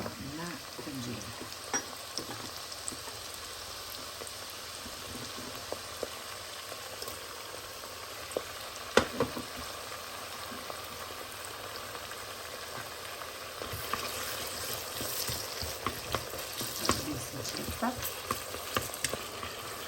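Onions frying in hot oil in a pot, a continuous crackling sizzle with bubbling and occasional stirring clatter, close and steady, louder and busier toward the end.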